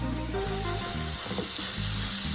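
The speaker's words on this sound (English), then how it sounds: "we're gonna put this in there and just saute it until it's brown" Ground beef sautéing in a hot skillet sizzles steadily and loudly up close, a dense, constant crackle with faint stirring scrapes and no voices.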